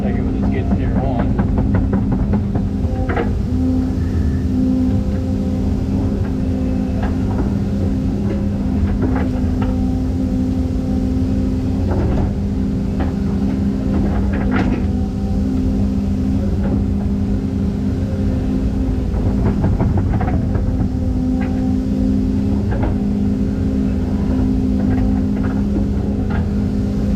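A skid steer engine runs steadily at a constant throb through the whole stretch, loud and close, with no pauses or revving.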